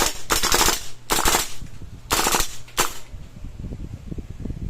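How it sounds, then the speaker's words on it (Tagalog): An E&C Hicapa Infinity / Golden Eagle gas blowback airsoft rifle fires on full auto in four loud, rapid bursts at close range, each separated by a short pause, with a faint mechanical rattle between them. "test fire. Firing. Full auto, sir."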